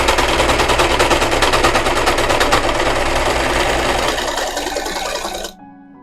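A sewing machine stitching cosplay fabric runs in a loud, rapid, continuous rattle, slowing slightly near the end before stopping abruptly.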